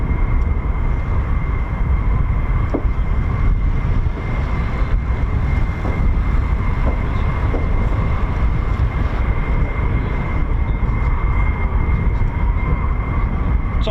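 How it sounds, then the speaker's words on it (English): F-15 fighter jets taxiing at RAF Lakenheath give off a steady, constant engine whine and roar that holds at an even level throughout, with no talk over it. "F-15's taxiing now, are they?"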